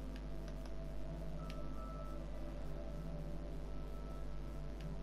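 Phone ringing with an incoming call in a game setting: a faint electronic ringtone of short repeated beeps over a steady low hum, with no talking.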